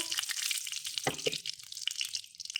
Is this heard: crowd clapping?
no